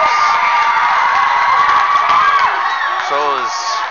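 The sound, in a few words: hockey crowd shouting and cheering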